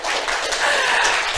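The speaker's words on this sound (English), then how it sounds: "Yeah, you can clap." An audience claps after a board game pitch to a publisher, a dense burst of close applause filling the moment with no talk over it.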